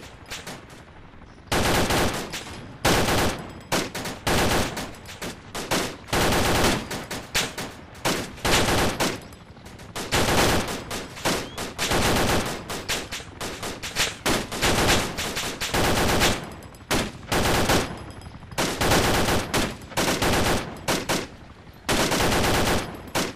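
An M60 machine gun from ArmA 2: Operation Arrowhead fires long, loud bursts close by, rapid rattling volleys separated by short pauses and continuing throughout.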